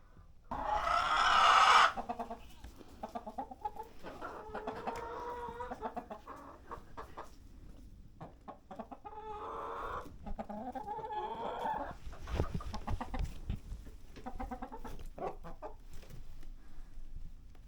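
Backyard chickens cluck and squawk close by in a busy, overlapping chorus, with one loud burst of squawking at the start and steady fowl chatter after.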